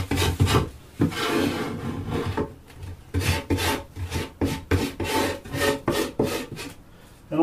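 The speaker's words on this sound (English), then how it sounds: "So I start mine from upside down using the tungsten scraper." A tungsten scraper scrapes propolis off a wooden Langstroth beehive box in loud, close, rhythmic rasping strokes, repeated rapidly and steadily with brief gaps between passes.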